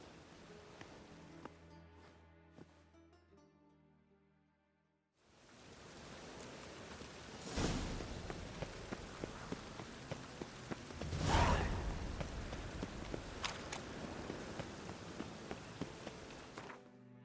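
Steady rain falls in The Witcher 3 game world, a broad hiss that swells after a quiet opening, with faint crackling drops and a louder whooshing gust midway.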